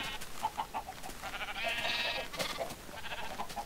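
A baby lamb bleating in Minecraft: several short, faint bleats spread across a few seconds over a soft, noisy background, with no talking.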